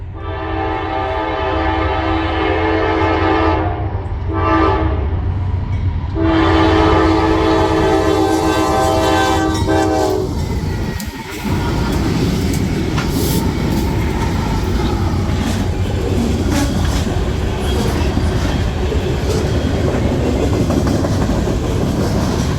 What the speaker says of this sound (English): NS-30T makes its way south with 4 units, 3 of them being AC-44 C6Ms and 1 being an SD-70 ACE